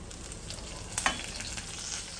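Potatoes and okra fry with ground spices in a hot pan, a steady close sizzle with a few quick stirring scrapes and one louder clatter near the middle, no voices.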